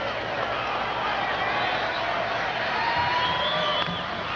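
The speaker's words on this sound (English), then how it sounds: "The chant you hear in the background, "Go Brewers, go."" Crowd noise from a 1981 Brewers ALDS playoff game at a baseball stadium, a steady broad roar of fans with possible chanting, continuous and fairly loud throughout under the broadcast.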